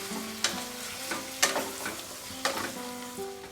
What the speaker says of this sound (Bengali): মিডিয়াম টু লোতে ফ্লেমটাকে রেখে এবার আমি চিকেনটাকে কষাবো